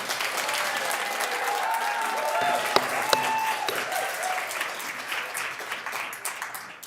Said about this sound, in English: I would request that there will be no applauding after each speaker